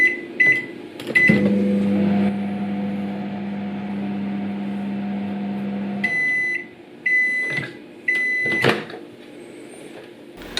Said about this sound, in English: give it a couple of minutes in the microwave